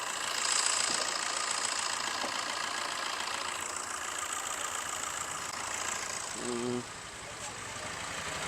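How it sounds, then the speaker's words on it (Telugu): A used taxi car's engine idles with a steady low rumble and faint knocking, heard close with the hood open, running continuously without speech over it. "ఇంజన్ అయితే ఇది సౌండ్ అయితే లేదు అంతగా"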